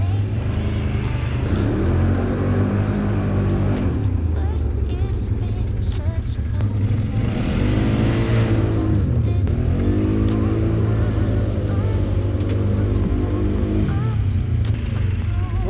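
A Can-Am Outlander XXC 1000R ATV engine revs loud and close, its steady throbbing rumble rising and falling in several throttle blips over a continuous idle in an outdoor riding area.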